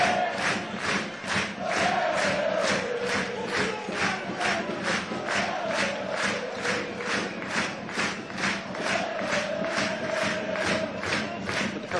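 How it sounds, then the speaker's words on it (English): A football crowd at Prestige Group Stadium in a Hartlepool United versus Boreham Wood match roars loudly and continuously, with rhythmic pulsing chants and clapping throughout. "Prestige Group Stadium has erupted in these last few minutes. Everyone trying to cheer"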